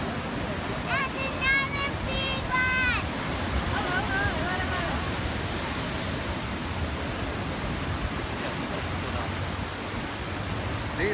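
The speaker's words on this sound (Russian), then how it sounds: "приливающая волна ударяется в скалу." Tidal waves surge against lava rock at an ocean blow hole, a steady broadband roar of surf and rushing water filling the whole span, with someone speaking over it early on.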